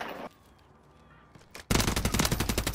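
Gunfire in an online shooter video game, where a short burst opens, a quiet gap follows, then a loud sustained rapid-fire stream of shots.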